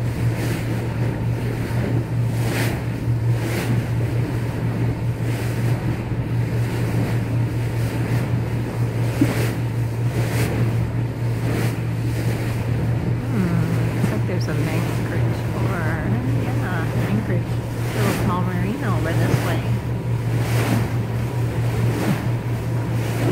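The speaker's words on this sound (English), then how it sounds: "Swells coming. Probably just pushing that water through the canal there." A boat moves through ocean swells near a canal, with a steady low engine drone and continuous wash of water and wind.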